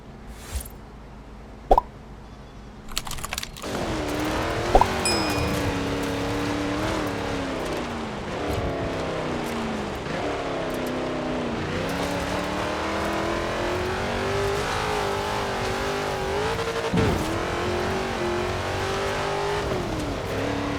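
Car engine in Forza Horizon 4, running steadily and rising and falling in pitch as the car drives, loud and close, with a few sharp knocks and clicks early on; no talking.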